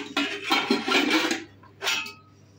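A metal baking tray of chicken pide slides back into a home oven, giving a close, loud scraping rattle of sheet metal followed by a shorter clatter as it settles, with no talking.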